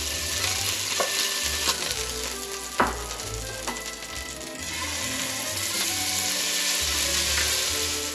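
Beef pieces browning in a pan for beef bourguignon sizzle steadily, with occasional scraping and clinks of a utensil stirring and turning them. The cooking is close and moderately loud, with no speech.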